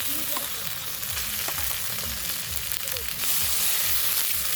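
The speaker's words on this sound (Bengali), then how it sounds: "এবারে মশলাগুলোকে আমি ভালো করে ভেজে নেব।" Spices frying in a pan over an outdoor clay stove, a close, steady sizzle with rhythmic stirring scrapes and a low crackling background.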